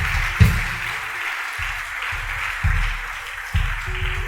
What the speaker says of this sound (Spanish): Dele un aplauso al Señor si lo está creyendo